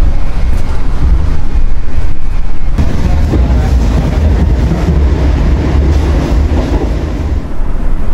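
Malioboro Express New Generation train running, heard from inside the restaurant car: a steady loud low rumble of wheels and carriage with a constant whine, no talk.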